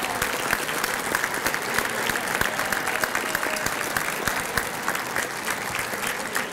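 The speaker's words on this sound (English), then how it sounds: "I think you guys guys and gals deserve a round of applause." An audience at an opening speech applauds the event committee: a steady crowd of clapping hands with distinct sharp claps standing out, moderately distant, continuing evenly throughout.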